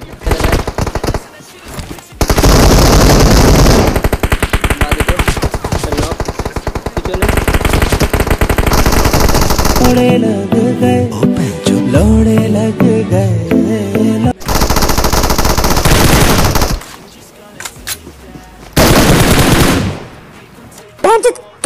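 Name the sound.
gunfire in video game PUBG Mobile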